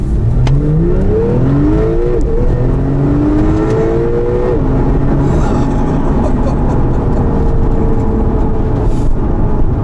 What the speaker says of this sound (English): Brent Sport Plus and we're going to floor it.